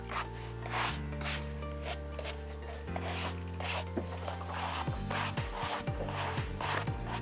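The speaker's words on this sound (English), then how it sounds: "we'll take one of our soft brushes with soft to medium pressure and just brush out any loose" A soft brush rubs loose dirt off suede shoes in quick, close scratchy strokes that grow faster toward the end, heard over a sustained tonal music bed with no talking.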